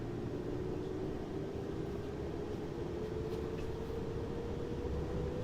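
A train in the video game Train Sim World 5 runs at speed, giving a steady, moderately loud rumble and drone with a slowly rising tone.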